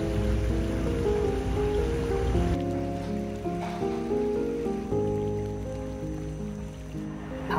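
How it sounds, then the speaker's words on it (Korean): Steady flowing water runs beside outdoor cafe seating in Kyoto on an overcast day, a continuous broadband rush heard alone with no talk, with steady tonal sounds layered over it. "물소리 너무 좋아."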